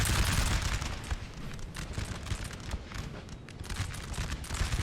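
Continuous dense musket volley fire from several infantry units in Napoleon: Total War, a thick crackling roar of overlapping shots that stays loud and busy throughout, with no pauses.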